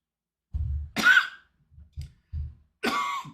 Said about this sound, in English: coughing a lot here.